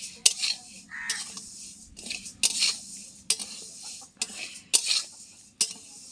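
Moong dal is fried and stirred in a metal wok for a festival meal, with repeated scraping and clinking of a spatula against the pan, irregular strokes close by, and faint sizzling underneath.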